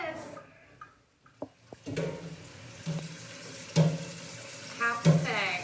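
Hot water runs from a tap in a farm milk room on a cold day, with intermittent clanks and knocks of containers over the flow.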